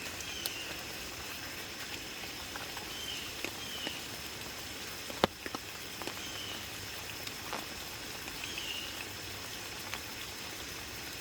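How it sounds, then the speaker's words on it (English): Light rain sprinkling steadily on a wet campsite, a soft constant patter with occasional louder individual drops ticking close by, no talk. "It's just sprinkling now"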